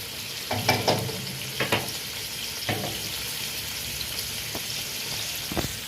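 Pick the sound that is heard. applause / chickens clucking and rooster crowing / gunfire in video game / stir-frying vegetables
stir-frying vegetables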